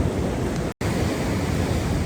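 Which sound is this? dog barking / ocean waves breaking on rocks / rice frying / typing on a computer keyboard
ocean waves breaking on rocks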